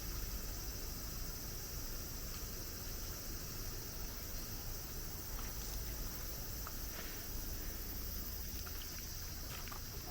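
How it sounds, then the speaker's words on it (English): Cicadas at a hot-spring shrine garden in Mie, Japan, a steady high-pitched shrill drone filling the air throughout, fairly faint and unbroken, with no talking. "You can hear the cicadas."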